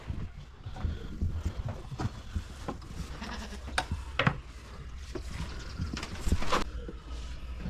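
Goat bleats on a farm, a few short calls rising over hoof shuffles and rustling, close and moderately loud.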